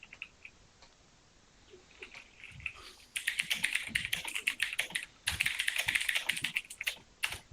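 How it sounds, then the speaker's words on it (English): Loud computer keyboard typing during an online tabletop role-playing session, a fast dense clatter of keystrokes that starts softer and then swells into two loud, close bursts with no talking. "your keyboard is so loud"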